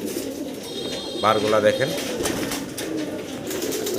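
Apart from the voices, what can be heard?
pigeons cooing at pigeon farm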